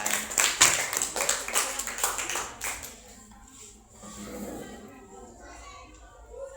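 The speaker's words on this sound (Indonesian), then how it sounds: "tepuk tangan" A group of children in a classroom clap a quick run of sharp claps for a few seconds, then it fades into quieter chatter and room noise.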